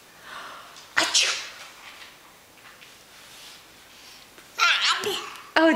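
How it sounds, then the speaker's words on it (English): A baby's sneeze bursts out sharply and close, followed later by a couple more short sneezy outbursts mixed with babbling and giggling sounds. "Oh, bless you. Did you sneeze too?"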